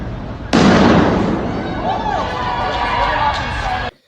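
Fireworks crackle and burst in downtown Portland at night, starting with a sudden loud blast that becomes a dense, sustained hiss and crackle, with street noise and a voice underneath, then cutting off sharply.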